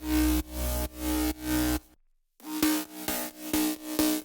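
A plain synthesizer plays a run of short, evenly pulsing notes, pauses briefly, then continues the same bright, dry rhythmic pattern.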